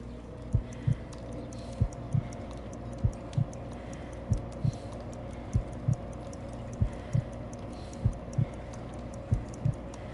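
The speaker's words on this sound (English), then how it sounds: "I need to concentrate and count the heartbeats." A heartbeat from the Sherlock Holmes Crimes and Punishments video game thumps slowly and steadily, about a dozen soft double beats spaced evenly over a low ambient hum, with no voices.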